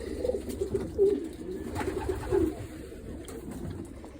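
Breeding pigeons coo softly in a loft, low throaty murmurs repeating over a gentle background hum, close and moderately quiet.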